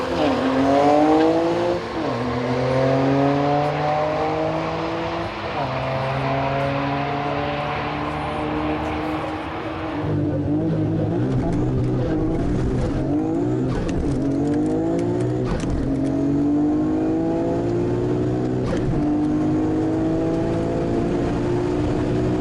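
Nissan R32 GT-R on a cold winter night drag run, engine revving hard through rising gear pulls with a shift break, loud and close, struggling for traction.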